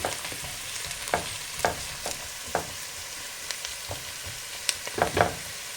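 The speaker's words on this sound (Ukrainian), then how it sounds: "Помішуємо нашу морквочку, наші овочі." Carrots and other vegetables fry in a pan for cabbage soup, a steady close sizzle broken by repeated scraping stir strokes, with no voices.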